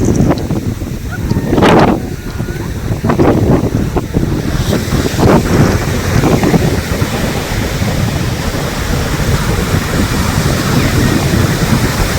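Sea waves wash in continuously at Porbandar Chowpatty beach while wind buffets the microphone, a loud, steady roar with surging swells and no clear speech.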